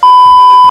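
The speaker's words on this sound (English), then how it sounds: "That's my phone" A mobile phone gives a single loud, steady electronic beep, one clean tone held for under a second with faint background noise beneath it.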